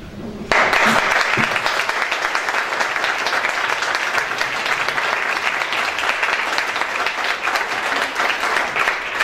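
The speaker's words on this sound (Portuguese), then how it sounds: "Palmas para o Décio." Sustained audience applause fills a lecture hall after a poetry talk, starting abruptly and holding steady and loud, with dense clapping from a large crowd and no speech.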